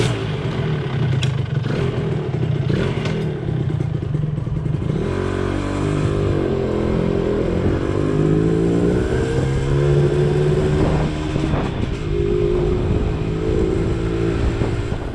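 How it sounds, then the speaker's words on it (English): A Honda Dash 125cc two-stroke motorcycle runs up close and loud in Thailand, its engine idling with a rattly clatter before it revs up and down in several rising and falling sweeps. "So this is the Honda Dash. It's a 125cc two-stroke."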